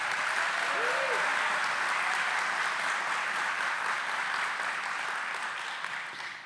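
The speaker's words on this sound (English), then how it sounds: "If we could give them a round of applause." A crowd at a groundbreaking ceremony for a new commercial port of entry in Douglas, Arizona breaks into sustained, loud applause that continues steadily and tapers off slightly at the close.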